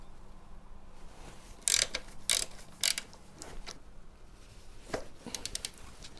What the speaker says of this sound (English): So I'm going to loosen up all the brake pipe and remove the rear caliper